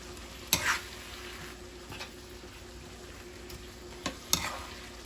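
Vegetables seasoned with basil fry in a pan while being stirred, a low steady sizzle broken by a few sharp utensil clanks and scrapes, fairly quiet overall.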